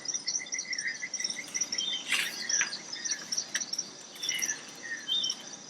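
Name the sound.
rainforest chirping and chattering animals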